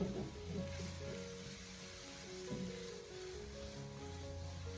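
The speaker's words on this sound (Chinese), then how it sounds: "然后再继续的用大火进行快速的翻炒，将其翻炒均匀，把它炒出锅气" Sausage and green peppers are stir-fried over high heat in a wok, a continuous hiss of sizzling oil broken by the scrape and clatter of tossing, fairly close and steady.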